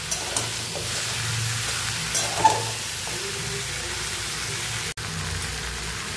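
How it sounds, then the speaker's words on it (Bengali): Fried potato, cauliflower and carrot are stirred with spices in a pan, giving a low steady sizzle with a few soft scraping stirs and one brief click, no voices. "মশলার সাথে খুব ভালোভাবে মিশিয়ে নিব।"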